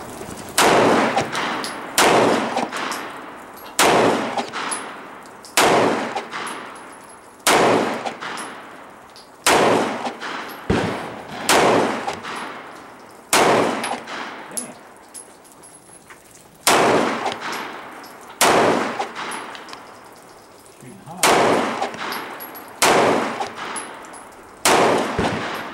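Gunshots from a CZ pistol in a video game ring out in loud, sharp single reports, repeating every second or two with brief pauses between groups.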